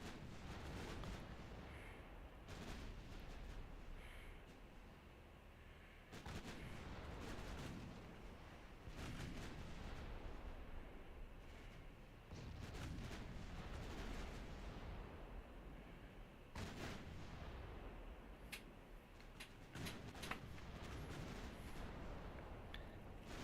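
Heavy naval gunfire from warships in Ultimate Admiral Dreadnoughts, an Austro-Hungarian fleet in battle, with repeated loud booming salvos every few seconds over a continuous rumbling roar of distant shelling.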